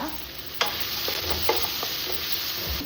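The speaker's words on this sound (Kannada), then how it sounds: "ಕಟ್ ಮಾಡಿದ್ದ ಹೀರೆಕಾಯಿ ಇದಕ್ಕೆ ಸೇರಿಸಿ ಒಂದು ಮಿಕ್ಸ್ ಕೊಡುವ" Chopped ridge gourd with green chillies gets stirred in a hot pan, a steady close sizzle broken by a few sharp scraping strokes of the spoon, with no voices.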